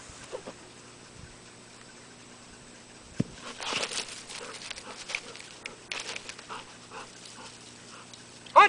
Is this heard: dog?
yes